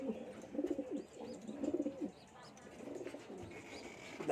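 Pigeons coo in soft, repeated bursts from a loft up above, with low throaty phrases recurring every second or so at moderate distance.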